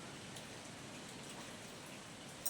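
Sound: rain

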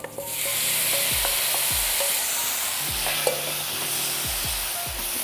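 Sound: onion and tomato frying in a pan for shakshuka

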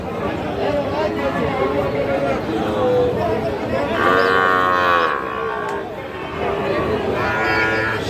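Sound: Sahiwal bull calf mooing

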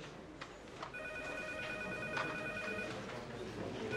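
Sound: telephone ringing

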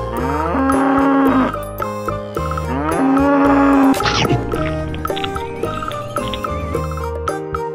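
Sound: cow mooing

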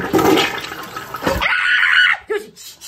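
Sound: toilet flushing

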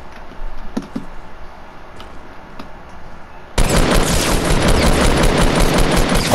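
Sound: tactical shotgun firing in Fortnite video game

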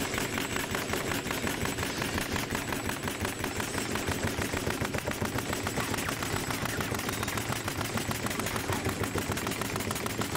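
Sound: pneumatic nail gun rapidly firing a full magazine of nails

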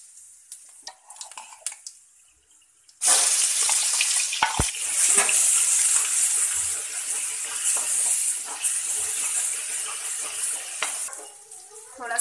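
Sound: onion, garlic and ginger paste frying in hot oil

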